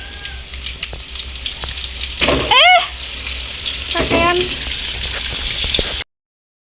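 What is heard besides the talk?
frying breadfruit chips in hot oil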